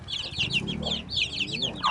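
Chickens clucking close by on a farm in the Philippines, a quick series of short high clucks in bursts with a brief squawk at the end.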